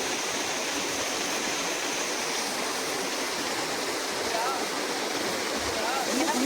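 Steady, broadband rush of water tumbling down Hidden Falls in the Kalvarayan Hills near Salem, a continuous close roar with no pauses.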